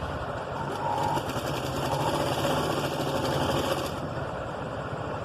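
A sewing machine runs steadily while stitching the sleeve of a six-year-old girl's blouse, giving a close, continuous mechanical whir with fast needle ticking and no talking.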